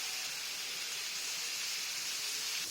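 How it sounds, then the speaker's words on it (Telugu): Fish fry pieces sizzle loudly in four tablespoons of hot oil on a heated pan, a dense, unbroken hiss that fills the whole moment. "4 టేబుల్ స్పూన్స్ ఆయిల్ వేసేసాను. పెనం హీట్ ఎక్కిందండి. ఇప్పుడు ఈ పీసెస్ పెట్టేస్తున్నాను చూడండి."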